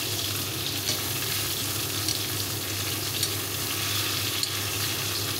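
Food sizzles steadily in butter in a hot pan, a constant broadband frying hiss with a few faint ticks and pops, moderately quiet and unbroken, with no voices.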